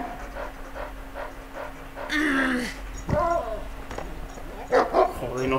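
A dog in the Beyond Good and Evil video game pants steadily, then lets out several short barks and whimpering yips in bursts, loud and close.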